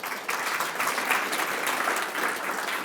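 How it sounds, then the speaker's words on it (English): Steady applause from an audience at a talk on an AI creative project, a dense continuous patter of many hands clapping at moderate loudness throughout, with no voices over it. "So please give a round of applause for Albert."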